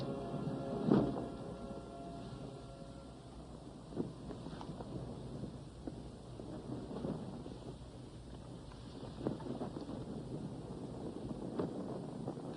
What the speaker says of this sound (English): The wind is growing stronger.